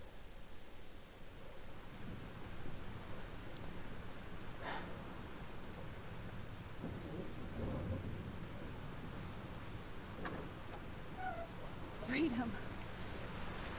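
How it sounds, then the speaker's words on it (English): Thunderstorm with heavy rain in the video game Life Is Strange, a constant rushing downpour and wind with low rumbling thunder swelling in places, while a person talks over it now and then. "This storm is real."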